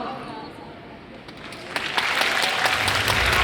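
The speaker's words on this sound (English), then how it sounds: "Round of applause everybody for my Argao, Jocelyn." An audience at the Miss Teen Philippines 2019 pageant breaks into applause after a quieter opening, building into loud, sustained clapping that fills the hall.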